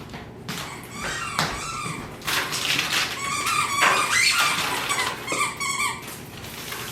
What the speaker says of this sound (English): That is the squeakiest of squeaky toys